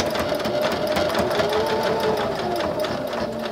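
A sewing machine runs steadily, stitching back and forth across a fabric wristlet keychain near its D-ring, a continuous close mechanical whir with no talk.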